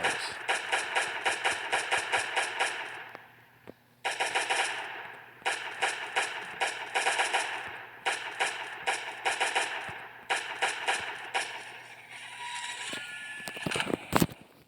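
Rapid bursts of automatic gunfire hit a turret in the Last Day on Earth survival game, repeating in steady rhythmic volleys with short gaps, loud and continuous, ending in a few heavier shots.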